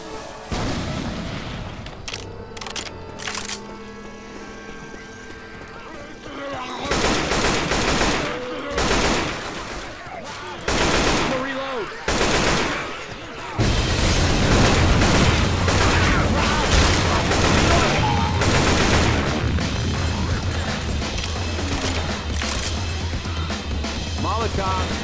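Repeated bursts of automatic gunfire and heavy shots from Left 4 Dead co-op zombie combat, loud and close, with rapid volleys separated by short gaps and a sustained barrage later on, while players talk over it.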